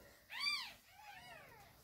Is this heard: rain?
no